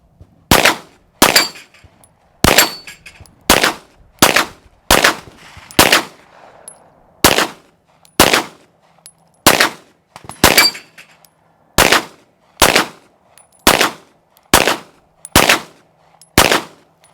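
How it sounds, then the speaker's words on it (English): A CZ TS 2 pistol fired in a steady string of loud, sharp shots spaced roughly a second apart, each with a brief ringing tail, with no talking. "I am anxious to go ahead and get to shooting, so let's do that."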